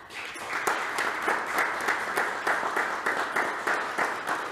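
Loud, sustained applause from a church congregation, many hands clapping in a dense, even roar that keeps going from start to finish.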